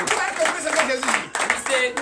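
A church congregation applauds for Jesus at a Sunday worship service in Benin, with brisk, uneven clapping mixed with voices and singing throughout.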